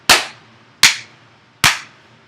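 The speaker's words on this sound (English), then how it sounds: "you just do a big clap with your hands" Three sharp, loud hand claps made to sync audio with video, evenly spaced under a second apart, each a crisp snap with a short room decay, no talking.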